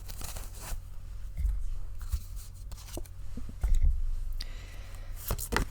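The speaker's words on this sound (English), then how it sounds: "I'm going to shuffle once again until Spirit asks me to stop." Oracle cards from the Uncertain Oracle deck being shuffled by hand, giving a soft, irregular run of close papery riffles, slides and flicks with a few sharper snaps, and no talking.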